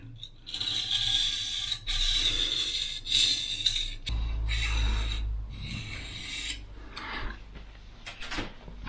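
A knife blade is drawn in repeated backstrokes across a sharpening stone, giving steady, close, gritty scraping in rhythmic passes with no talk.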